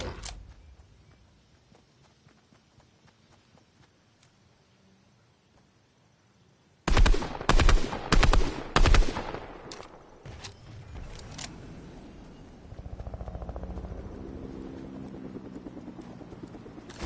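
Sniper gunfire in the video game Fortnite: after a quiet stretch, a burst of about five loud, sharp shots lands close together, followed by lower rumbling game sounds and a faint steady hum.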